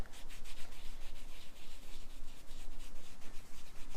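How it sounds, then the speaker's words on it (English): Alcantara trim being wiped with a baby wipe during car interior detailing; a close, steady soft rubbing and scrubbing texture of repeated strokes, continuous for the whole stretch with no talking. "keep rotating the baby wipe. And just wiping that down"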